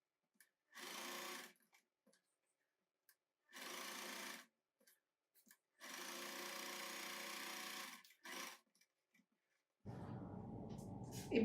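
A sewing machine stitches the neck fabric of a churidar in four separate bursts, each a steady, close, motorized whirr lasting one to two seconds, with silence between runs.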